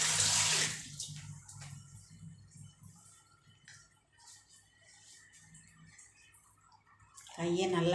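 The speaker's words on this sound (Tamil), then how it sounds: "கையை நல்லா கழுவிட்டு நல்லா தொடச்சி வச்சுட்டு" Tap water running over hands being washed in a home kitchen while making boondi laddu, a soft continuous trickle with louder splashy bursts at the start and end, under a person talking.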